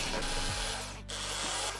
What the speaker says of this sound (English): For this 3mm screw, I need to create a chamfer. I used this drill machine to do it.